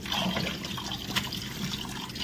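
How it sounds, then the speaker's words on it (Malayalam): Beef pieces rinsed in water in a bowl, a quiet, steady sloshing and trickling with a single brief splash partway through, and no voice. "വൃത്തിയായിട്ട് 2-3-4 പ്രാവശ്യം നല്ലപോലെ കഴുകി എടുത്ത്"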